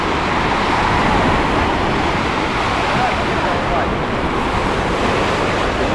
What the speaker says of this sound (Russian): Это бассейн с волнами.